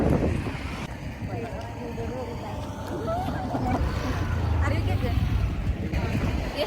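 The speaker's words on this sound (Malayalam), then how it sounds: "നല്ല കാറ്റാണ്." Steady wind rushing across the open Madayipara plateau in Kannur, a constant broadband roar close to the microphone with faint voices underneath.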